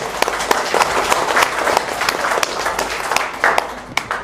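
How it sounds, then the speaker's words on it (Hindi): Applause in a government school classroom after a student sings, a scattered burst of hand claps running steadily for about four seconds with no talk over it. "ताली बजाइए इसके लिए।"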